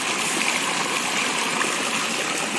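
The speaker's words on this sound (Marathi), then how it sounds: "इथे एक आता झरण्यासारखी थोडं थोडं पाणी येऊन राहिलं" A small stream of water trickling steadily outdoors, a constant close hiss and babble with no break and no voices.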